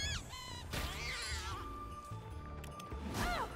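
A cat meows in the video game Don't Die, Minerva!, several drawn-out rising and falling mews, close and clear over a low game soundscape, with no voice.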